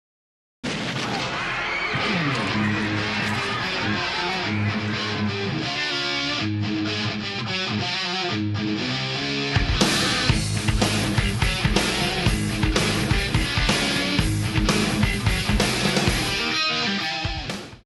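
Distorted electric guitar riff playing as a full glam metal band recording that stays loud and dense, growing heavier and punchier about halfway through.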